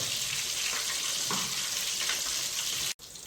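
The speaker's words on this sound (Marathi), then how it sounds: "हे जरा परतायचे पुन्हा ते तेलामध्ये चांगले भाजून घेतो" Crab pieces fry in hot oil with a soft, steady sizzling hiss that cuts out briefly near the end.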